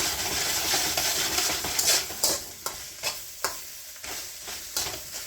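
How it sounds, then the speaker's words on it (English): Rice fries in a hot pan with chicken and egg, a steady sizzle broken by sharp scraping strokes as a spatula tosses it, roughly once a second, close and clear with nobody talking. "Get that rice heated up and frying. We're giving good tosses."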